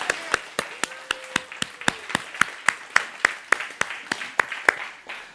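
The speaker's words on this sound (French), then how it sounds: "toute l'Accessible se joint à moi ici par applaudissement pour vous accueillir ce matin" A small audience claps to welcome attendees at a morning gathering, with sharp, evenly spaced claps from a few people and a steady, moderately loud rhythm throughout.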